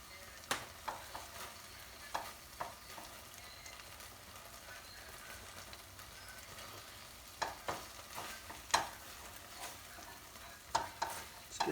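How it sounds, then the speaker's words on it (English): Butter melts and sizzles in a pan under a soft, steady frying hiss, broken by repeated scraping clicks of a utensil stirring, some of them sharp and close. "Let's finish that with the last little bit of butter."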